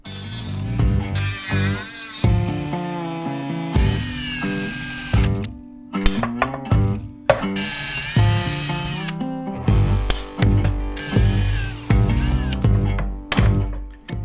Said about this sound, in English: I'm going to go ahead and take some of this angle aluminum and cut it on all 4 sides